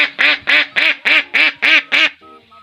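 Domestic ducks (itik) on a duck farm in Bukidnon, Philippines, give seven loud, rhythmic quacks in quick succession, close up and with no talking, then fall quiet.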